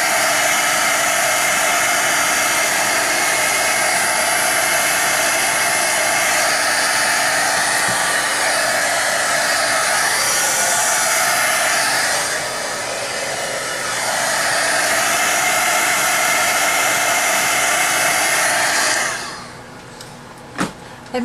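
Hair dryer blowing steadily and loudly to dry a multi-section craft tag holder box, a continuous broadband whoosh that dips slightly midway, then shuts off near the end with a few handling knocks.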